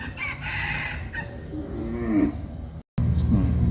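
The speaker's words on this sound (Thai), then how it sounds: "นี่เป็นวัวชนอีกตัวนะครับ" A Thai fighting bull moos loudly and repeatedly at close range in a rural farm setting, with roosters and other fowl audible in the background; the sound drops out briefly before resuming.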